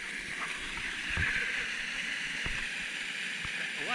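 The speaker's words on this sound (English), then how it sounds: "Waterfall." Water spilling a few inches deep over a backyard pond dam during February flooding, a steady broadband rushing roar like a small waterfall, continuous and fairly close with faint splashes.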